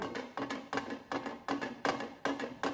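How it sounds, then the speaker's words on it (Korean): A glass food container rattles against the bottom of a pot of boiling water, giving a quick irregular series of soft clinking taps over a steady bubbling hiss, close by and fairly quiet. "물이 끓는 냄비에 유리 밀폐 용기를 그대로 넣으면 이런 소리가 납니다."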